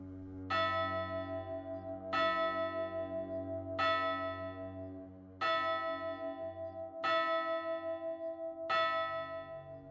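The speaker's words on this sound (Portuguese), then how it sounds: "O sino badalava sozinho." A church bell tolls six times, each strike ringing out and decaying slowly before the next, clear and resonant with no voices.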